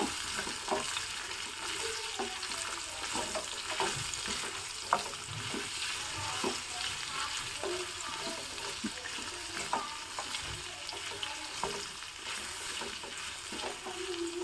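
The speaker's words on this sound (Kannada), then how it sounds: "ಇದಿವಾಗ ಎಣ್ಣೆಯಲ್ಲೇ ಫ್ರೈ ಆದರೆ ಚೆನ್ನಾಗಿರುತ್ತೆ" Masala frying in oil in a pan for an Iyengar-style dish, a continuous soft sizzle with crackling pops and occasional stirring scrapes, heard close and without voices.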